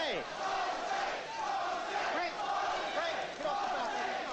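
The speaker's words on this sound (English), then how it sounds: "Crowd taking up a chant of Jose." An arena boxing crowd at a Tyson–Ribalta fight chants a name in a loud, rhythmic, repeating cadence, with the massed voices rising and falling in regular waves.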